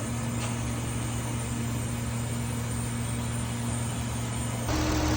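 Kia Mohave engine idling steadily during an oil flush, a continuous close, even hum with a constant low drone, its pitch stepping slightly near the end.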